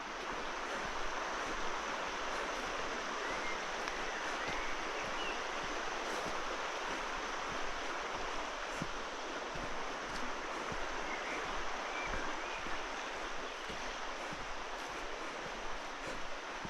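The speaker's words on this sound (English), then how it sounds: "A little spell of running water between the calm patches" Woodland stream running between calm patches in Fingle Woods, Devon, a steady, faint broadband rush of flowing water that holds evenly throughout.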